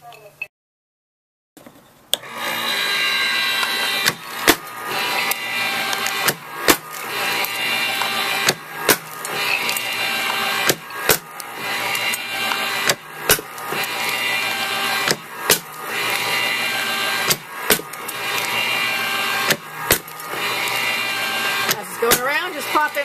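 An electric pecan nutcracker runs with a steady motor drone while pecans are fed in, giving sharp, repeated cracking snaps at irregular intervals, loud and close.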